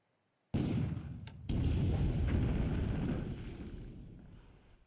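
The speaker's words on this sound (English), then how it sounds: "now I must suffer this bombardment." Naval bombardment sound effect in the WWII strategy game Pacific: AE: a sudden heavy roar of shellfire, then a second blast rolls in and a dense rumbling barrage sustains before slowly fading, with no voices.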